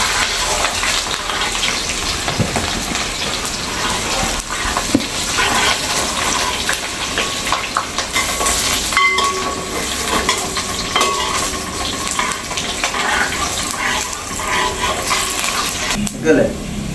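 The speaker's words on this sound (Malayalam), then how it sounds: "നമുക്കതൊന്ന് ഇളക്കി കൊടുക്കാം മൂത്ത് വന്ന വരെ ഇളക്കി കൊടുക്കാം" Chopped ginger and green chillies frying in oil for kovakka (ivy gourd) pickle, a continuous dense sizzle with stirring scrapes throughout, loud and close, no speech.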